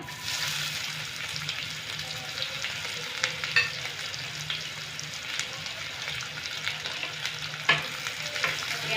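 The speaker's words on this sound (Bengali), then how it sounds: "পেঁয়াজগুলোকে আমি একটু হালকা ভেজে নেব" Sliced onions fry lightly in a pan for a rohu fish-head muri ghonto, a steady close sizzle with occasional scrapes and clicks from stirring.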